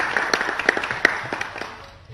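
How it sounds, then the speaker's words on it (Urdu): Studio audience clapping for teams on a quiz show, a short burst of scattered handclaps that fades out over about two seconds. "ان تینوں ٹیمز کے لیے حوصلہ افزائی کے لیے تالیاں بننی چاہیے."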